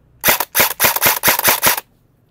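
An E&C airsoft rifle fires seven sharp, loud bursts in quick succession with brief gaps between them, close to the listener and with no talking.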